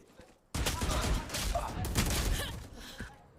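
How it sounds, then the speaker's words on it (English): Gunfire from a round of the tactical shooter Valorant at a pro tournament match, a sudden dense burst of rapid shots and impacts lasting about two seconds, mixed with game effects and commentary. "Good shooting from Bang"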